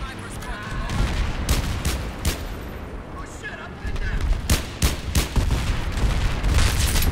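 A big gun in Battlefield 3 fires a string of heavy booming shots, irregularly spaced over several seconds amid loud battle noise and other gunfire.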